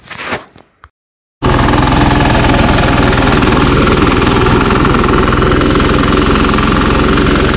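A thresher's engine, smoking heavily from a fault, roars loud and close, its steady knocking chug running without a break after a brief quieter start.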